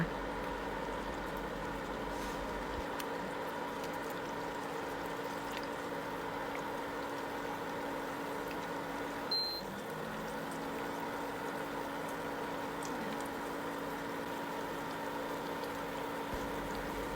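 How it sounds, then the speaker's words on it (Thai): Steady bubbling sizzle of Thai steamed rice cakes (khanom kheng) deep-frying in hot oil over medium heat, continuous and fairly loud throughout, with no voices. "น้ำมันร้อนได้ที่แล้วเราก็นำขนมเข่งลงทอดได้เลยค่ะ"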